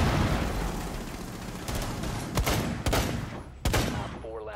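Sustained rapid gunfire and explosive crackle from a Rainbow Six Siege firefight run continuously and loud, with a few sharper single shots standing out near the end.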